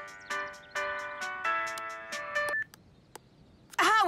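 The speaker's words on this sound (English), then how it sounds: "However did that horrid song become my ringtone?" A phone ringtone in a Strawberry Shortcake cartoon plays a bright, repeating melody of sustained electronic notes for about two and a half seconds, then cuts off, followed by a short warbling burst at the end.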